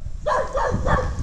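A dog barks in a short run of three quick, close yaps, fairly loud and without any talking.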